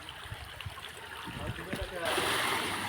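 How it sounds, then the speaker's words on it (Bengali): Floodwater rushes strongly into fields at a submerged road near a canal in Udaychak village, a dense, continuous roar of flowing water that swells louder partway through, with someone speaking over it. "দেখুন এখানে কত জল, এখান দিয়ে প্রবলভাবে জল ঢুকছে মাঠে"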